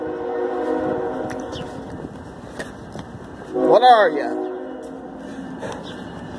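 Canadian National 3868 freight train rumbling through Effingham, Illinois, its horn sounding a loud blast partway through over the steady rolling rumble, with people talking nearby.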